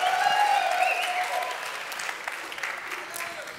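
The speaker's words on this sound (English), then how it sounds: "please give a warm round of applause for Avalon Chanel" Applause from an awards-show audience at the Septimius Awards 2024, sustained clapping that starts fuller and gradually thins out, with faint voices and cheering mixed in.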